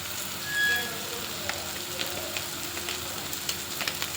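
Pav bhaji masala, two and a half spoons, roasts in a pan with the fried base for hotel-style pav bhaji, giving a steady moderate sizzle with light periodic clicks of stirring, with no talk.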